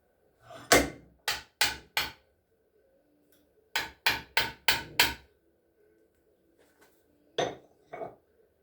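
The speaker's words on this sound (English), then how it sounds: "Little trusty copper hammer, the brass, still reasonably warm." A copper hammer strikes a still-warm brass part on an '08 Pontiac G6 GT 3.5 in eleven sharp metallic blows: a burst of four, a quick run of five, then two more, with quiet gaps between.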